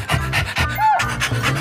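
A person imitates a dog's rapid panting as a singing breath exercise, quick rhythmic huffs close to the microphone, with a brief rising vocal squeak in the middle.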